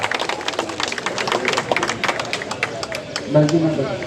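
Applause at a BJP neighbourhood tea-meeting gathering in Bangur Avenue, a steady wash of many hands clapping with crowd noise and some voices mixed in throughout.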